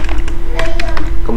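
Keys tapped on a computer keyboard while entering JavaScript code for a search engine project, a few quick irregular clicks over a steady electronic hum, close and moderately loud.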